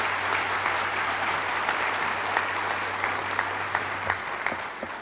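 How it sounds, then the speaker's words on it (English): A crowd at an event for a school district applauds in a continuous, even burst of clapping heard from the room, with a low steady hum underneath throughout. "let's give a round of applause to our school district"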